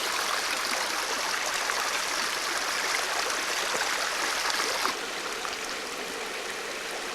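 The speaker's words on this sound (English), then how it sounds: "Tons of muddy water. And that's the outlet side of the 36-inch pipe." Muddy water pours steadily from the outlet of a 36-inch pipe, a continuous close rushing wash that softens slightly near the end.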